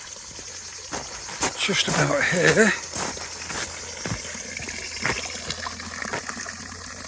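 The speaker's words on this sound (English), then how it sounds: "is some spring water, so I'm going to fill up the water bottle." Spring water trickles from a small mountain spring in a continuous, soft babble while someone speaks briefly over it close by.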